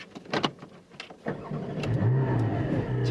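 A Porsche 718 Cayman GT4 with a mid-mounted boxer engine cranks with a few sharp starter bursts, then catches and settles into a loud, steady idle close by.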